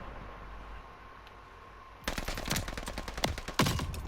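Bursts of close automatic gunfire from a Call of Duty Vanguard match on the Champion Hill map break out after a quiet opening, with rapid rattling volleys and a louder burst near the end.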